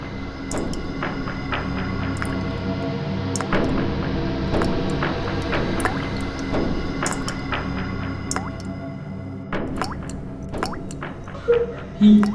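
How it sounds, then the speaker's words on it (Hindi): Liquid drips one drop at a time in a quiet house, irregular close plinks and soft splats over a low background hum, with no talk. "कुछ टपकने की आवाज आ रही है ना?"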